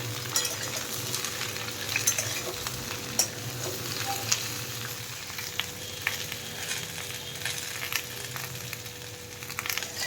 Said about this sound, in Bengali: এই সব সবজিগুলো আমি একসাথে ভাজা করে নেব মূলো দিয়ে দিচ্ছি রাঙালু বরবটি আর ডাঁটা